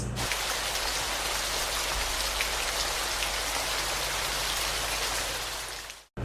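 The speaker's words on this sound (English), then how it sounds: "Sound from waterfalls." A waterfall pours in a constant, dense hiss of rushing water, loud and unbroken from start to finish before cutting off abruptly.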